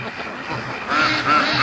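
Brant geese call near at hand with short nasal honks, a few distinct cries rising over a steady outdoor background on a free-range farm.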